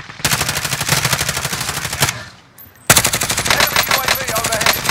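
Rapid automatic gunfire from Call of Duty Warzone rattles in two long, loud bursts, split by a brief pause of quieter sound before the firing resumes just as dense.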